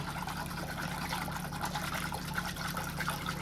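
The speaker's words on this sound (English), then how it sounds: "A couple of gravy granules in there now. Let's whisk it up a bit." Gravy granules are whisked into beef cooking liquid for slow-cooked shin of beef, producing a faint, steady wet swishing and trickling close by with no talk.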